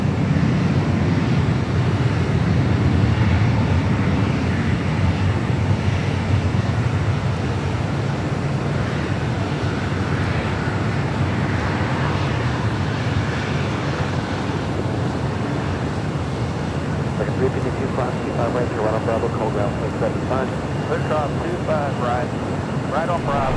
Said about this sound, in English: Next departure is Southwest Airlines in the Nevada 1 livery, flight 1424. Heading to Baltimore, Maryland at the 737-800.